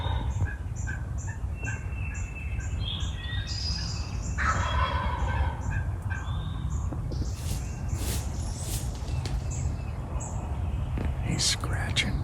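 A wild turkey gobbles repeatedly from a distance during a crossbow hunt, with faint chirping birds and hushed whispering nearby.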